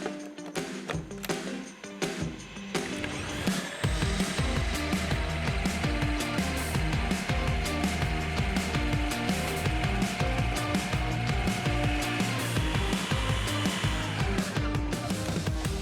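Blender whizzing roasted garlic for a vegetable ragu, a loud continuous motor whir starting after a brief quieter moment and running steadily to the end.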